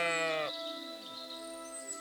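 A single clear sheep bleat from a lost ram in Kingdom Come: Deliverance II, nasal and wavering, followed by soft ambient game tones with no talking.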